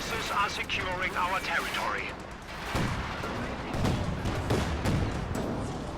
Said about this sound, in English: Flak panzer pumping away at the Stuart there, forcing that back